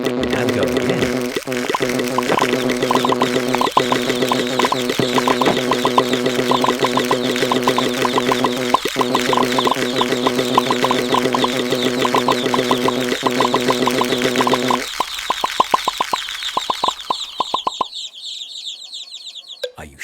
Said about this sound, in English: Peppa and George love to play Happy Mrs. Chicken.